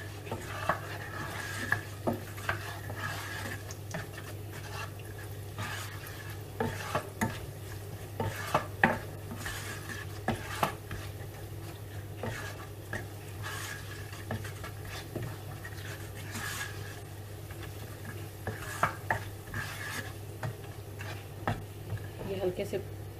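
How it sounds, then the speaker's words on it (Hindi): Almonds and nuts are lightly roasted in a pan on the stove for suji halwa, with soft sizzling and repeated scraping and clinking of a spoon stirring against the pan, fairly faint and close. "अब इन आलमंड्स वगैरह को हम हल्का सा भूनेंगे।"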